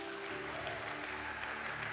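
Congregation at a church teaching service clapping in sustained, dense applause that fills the space evenly from start to finish, with no speech over it.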